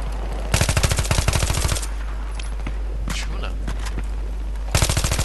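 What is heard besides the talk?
automatic weapon gunfire in video game Battlefield 3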